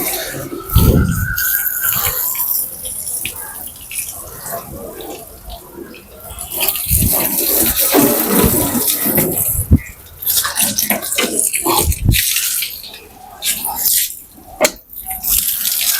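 Water poured over a car during a foam wash at home, splashing and running across the body in uneven bursts with brief pauses, loud and close.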